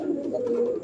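A male pigeon, one of a cock bird offered among big-breed pigeons, coos in a steady, low, throaty tone held close and clear for under a second, with no talk over it.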